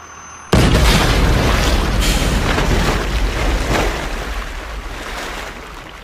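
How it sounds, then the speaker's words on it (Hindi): A cartoon-style crash of a bus plunging into water: a sudden loud boom followed by a long, roaring wash of splashing and churning water that slowly fades. "उनकी बस का एक्सीडेंट हो गया और बस पानी में जा गिरी"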